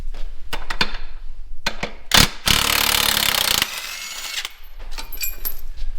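Bolts come off an aluminum mounting bracket on a Camso snow track fitted to a Honda Rubicon, with scattered clicks and clanks, then a loud sustained burst of power-tool whirring before quieter handling noises.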